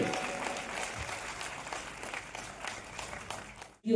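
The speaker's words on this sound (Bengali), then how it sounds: "একটা জোরদার হাততালি হবে সবাই মিলে।" An audience at the South Assam Film Festival in Silchar applauds, a dense, continuous clapping from a crowd that fades slightly before stopping abruptly at the end.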